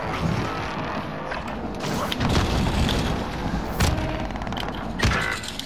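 A grenade explodes in Call of Duty: Modern Warfare with a dull, heavy boom amid rumbling battle noise, followed by scattered thuds and impacts within a dense, loud game soundscape.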